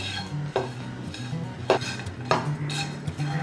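Fennel seeds and dry coconut dry-roast in a pan, heard as a soft rustle with three sharp clinks of a metal spoon scraping the pan.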